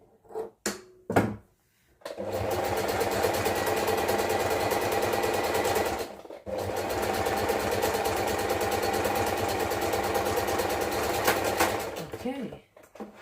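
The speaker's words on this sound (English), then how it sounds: "Then I can go ahead and stitch the same." A sewing machine stitches fabric in a long, steady mechanical whir, loud and close, breaking off briefly midway before resuming, with a few short handling knocks at the start and end.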